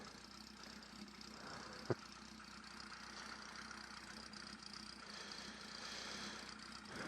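A chopper motorcycle engine runs steadily at a low, rough rumble, with one sharp knock early on and a slight rise in intensity toward the end.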